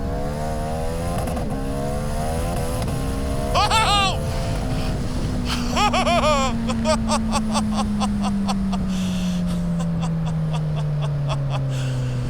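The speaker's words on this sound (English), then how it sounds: "I opened the throttle, it just went." A motorcycle in first gear revs hard as the throttle opens and the rear wheel spins, the engine note climbing and wavering loudly up close before settling into a steady drone.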